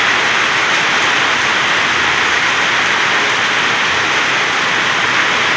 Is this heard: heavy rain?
yes